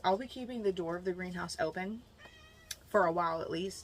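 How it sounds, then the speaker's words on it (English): A needy pet cat crying inside a cottage garden greenhouse in winter, its plaintive meows rising and falling under a person's steady talk. "If you hear the cat crying"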